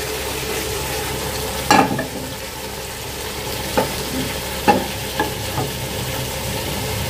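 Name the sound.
potatoes being stir-fried with chicken curry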